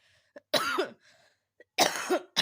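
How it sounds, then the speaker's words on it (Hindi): A person coughs in harsh bursts, two loud fits separated by a pause, with a few quieter throat sounds between them. "खाँसी का प्रॉब्लम अभी भी है"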